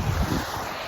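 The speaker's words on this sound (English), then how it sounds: "Hopefully you can hear me over the sound of this flowing water." Rushing flowing water fills the short moment with steady broadband wash and low rumble, close and continuous, with some wind buffeting on the microphone and no voice.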